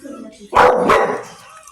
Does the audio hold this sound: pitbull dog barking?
yes